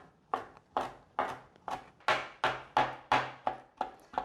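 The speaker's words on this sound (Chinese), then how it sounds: "把它切碎，" A knife chops fermented black beans on a board in about ten crisp, evenly spaced strokes, close and clear with no talk over them.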